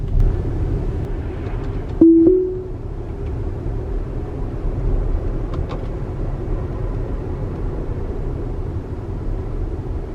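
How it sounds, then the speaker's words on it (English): Inside a Tesla rounding a corner on autopilot, a steady low road and cabin rumble runs throughout, broken by a brief tonal chime early on; there is no talking. "Let Ruby go around this corner this morning in autopilot"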